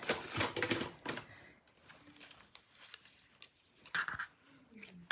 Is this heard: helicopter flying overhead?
no